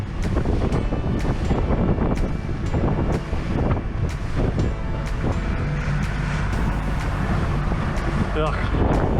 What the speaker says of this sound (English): Man, it's freaking windy.